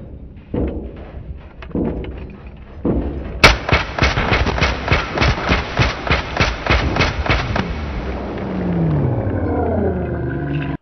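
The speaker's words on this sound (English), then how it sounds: "just how he shot me 10 times" Gunfire in the shooter game Escape From Tarkov plays back in slowed motion: a loud sharp crack, then a rapid train of evenly spaced heavy reports, trailing off into a low warbling rumble.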